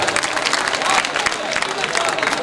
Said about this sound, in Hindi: एक बार जोरदार ताली आनी चाहिए